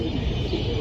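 Pigeons coo and call steadily at a busy pigeon market, with a dense low murmur of birds close by and no clear speech over it.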